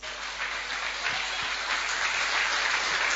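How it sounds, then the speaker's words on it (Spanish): A church congregation applauds together in a steady, dense wash of clapping that holds for the whole span with no talk over it. "¿Cuánto dan un aplauso al Señor por eso?"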